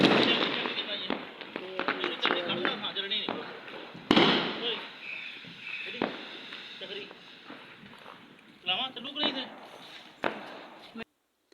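Diwali firecrackers and fireworks going off at a home celebration, with several sharp, loud bangs and crackling bursts scattered among ongoing voices and background chatter.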